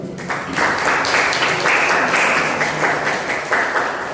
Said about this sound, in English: Please give applause for Mrs.